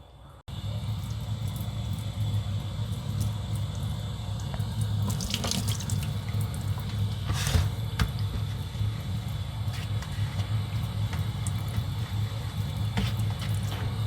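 Tap water running steadily into a sink as an oil paint brush is rinsed, a loud continuous splash with brief bursts of heavier spatter as the brush is worked under the stream.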